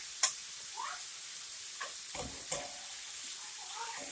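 Loaded squash cooks down in a pan with a steady, faint sizzling hiss and a few soft stirring scrapes and clicks, close by, without talk.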